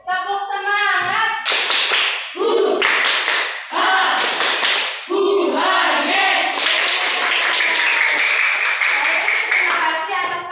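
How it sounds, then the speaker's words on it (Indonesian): A class does a rhythmic clapping chant, children's voices calling out in unison between bursts of patterned hand claps and taps, loud and close. "Kemudian sebelum ditutup, kita tepuk semangat dulu."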